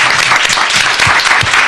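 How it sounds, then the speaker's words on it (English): An audience in a committee meeting room claps, a loud, dense burst of applause from many hands, close and filling the whole short moment. "Give them a round of applause"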